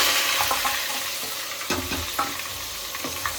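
Onions and chillies hit hot oil already tempered with cumin seeds and curry leaves for a chicken curry, giving a steady close sizzle with a few soft clinks and stirring scrapes scattered through, no voices.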